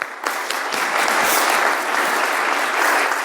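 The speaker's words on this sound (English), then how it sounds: "Can we have a first round of applause first for Nick?" A room full of listeners claps after a conference talk on security testing, a brief even burst of applause that swells quickly and holds steady.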